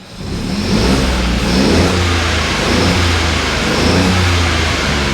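The engine of a salvage Mk7.5 Ford Fiesta revs up loudly and holds a strong, rising roar, close by with a steady rumbling tone throughout.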